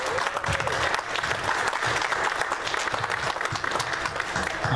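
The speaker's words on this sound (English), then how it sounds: "I'd like to give them a round of applause for what they've done." Applause fills a village board meeting room, a steady dense clapping from many people lasting several seconds at close range, fairly loud and unbroken.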